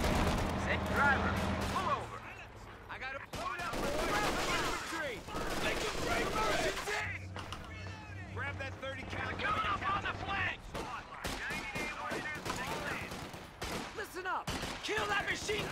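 Machine gun bursts in Company of Heroes 2 rattle through a World War II battle in repeated loud volleys, mixed with distant explosions and shouted soldier voices.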